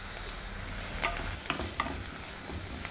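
Onions sauté and brown in a pan for tomato chutney, a steady close sizzle broken by a few soft stirring scrapes.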